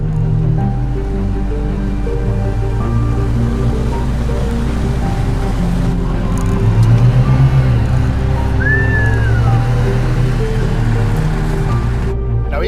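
2024 Mazda CX-90 SUV with an inline-6 engine driving along and moving up through its gears, a steady low engine and road drone from inside the cabin that shifts pitch at each gear change, with no talk.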